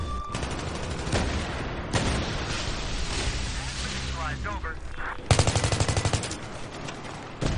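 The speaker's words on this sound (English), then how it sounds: "getting shot at!" Dense automatic gunfire and bursts in Battlefield 3 multiplayer, rattling continuously with sharp louder volleys near the end.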